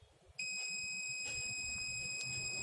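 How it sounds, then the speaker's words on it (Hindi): Continuity beep from a Mastech 830L digital multimeter as its probes touch, a steady high electronic tone that starts abruptly and holds, close and fairly quiet with no talk. "अगर आप इन दोनों प्रॉप को मिलाएंगे तो फिर एक बीप की आवाज आएगी"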